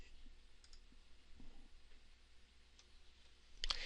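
A computer mouse gives a few faint, quick double-clicks at a desk, soft sharp ticks spread over a quiet background.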